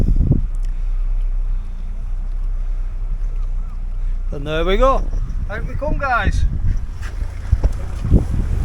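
A small fishing boat's engine hums low and steady at sea off Anglesey, mixed with wind buffeting the microphone and water sloshing, while someone talks over it.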